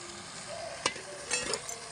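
Mutton sautéing in a clay pot over a firewood stove hisses steadily up close, with a couple of quick stirring scrapes and a soft clink.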